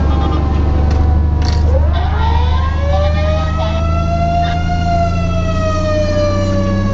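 A fire engine siren wails continuously at close range as the truck responds to a second-alarm fire call, its rising and falling tone sweeping over a loud engine rumble.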